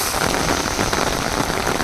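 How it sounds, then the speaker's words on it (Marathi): Dense, heavy rain pours steadily on a surface where goats graze, a continuous loud hiss of drops with no voices. "जोरात पाऊस चालू झाला"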